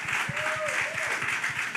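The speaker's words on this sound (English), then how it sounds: "Y'all clap it up." Audience applause at a church community outreach session, steady clapping filling the room throughout, with a faint voice tone rising briefly over it.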